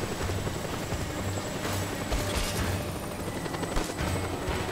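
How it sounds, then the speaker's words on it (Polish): A helicopter's rotor thrums steadily through a dense wash of game noise in the PC game Just Cause 2, with scattered bursts and thuds layered over the continuous drone. "Słyszę helikopter."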